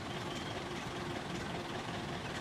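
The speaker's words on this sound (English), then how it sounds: "He's got his engine running." A car engine idles in a radio drama scene, a continuous low rumbling hum with noisy texture, steady and moderately loud with no speech over it.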